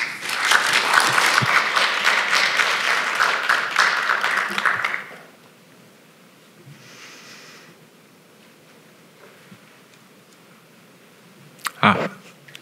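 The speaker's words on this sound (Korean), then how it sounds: "박수로 맞이해 주시기 바랍니다." A seminar audience at a university knowledge-sharing talk on autism spectrum disorder gives the speaker a sustained round of applause for about five seconds. Near silence and faint shuffling follow, then a brief handling knock.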